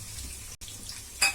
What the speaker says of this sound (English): Now I will put in the chopped onions, that is 2 onions which I chopped into small pieces.